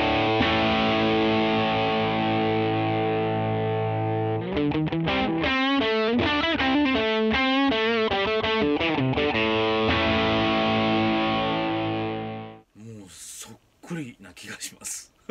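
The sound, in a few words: electric guitar through ODU1 overdrive pedal, rear pickup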